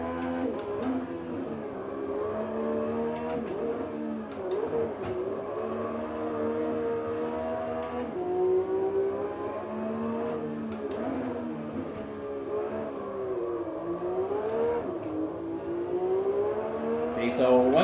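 A Porsche 991 GT3 pulls around the VIR track, its engine droning steadily with pitch sweeping up and down through corners, loud and continuous for the whole stretch, with talk riding over it.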